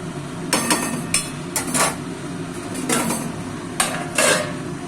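A lid clatters onto a metal pot of cauliflower and potato curry, several sharp clanks and rattles spaced apart over a low background hum.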